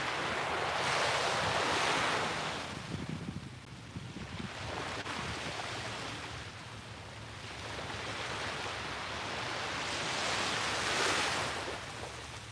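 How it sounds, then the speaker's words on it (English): Sea waves surging and washing ashore in slow, steady swells, with wind buffeting the microphone; continuous and fairly loud, no voices. "It's so mesmerizing to listen to the waves"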